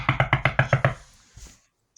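A rapid series of about eight sharp knocks on a door, evenly spaced and loud, followed by a brief muffled thump and then near silence.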